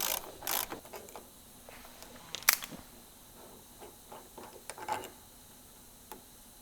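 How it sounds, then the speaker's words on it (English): Ratchet backing out two 8mm triple square screws on a Porsche 911 door striker, with quiet irregular clicks and a few sharper metallic ticks at close range, faint overall. "all we got to do is undo the two 8mm triple square screws"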